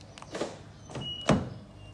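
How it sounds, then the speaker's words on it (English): 2018 Honda Civic 1.5 TC-P locking via the keyless button on a front door handle, heard as a quiet click and a soft thunk, then a sharper mechanical clunk with a short electronic chirp, close by and alone. "To lock the car, press the black button on any of the front door handles."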